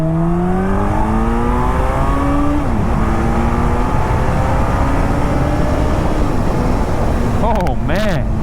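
A 2001 Suzuki Hayabusa GSX1300R (first-generation) roars loudly up close as it accelerates hard, its pitch climbing through brief dips at gear changes, with wind rush throughout.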